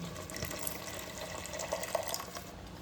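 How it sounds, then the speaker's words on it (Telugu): Water is poured into a simmering gravy of snake gourd curry, a soft, steady liquid rush with light splashy bubbling, close and fairly quiet, with no talk. "ఇప్పుడు ఈ గ్రేవీలో కొంచెం వాటర్ పోసుకోవాలి."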